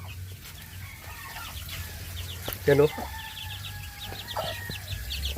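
Pet chickens kept with newly hatched chicks, and a hen sitting on eggs, cluck softly around a backyard coop. A sharp, louder squawk bursts out midway, while someone talks quietly nearby.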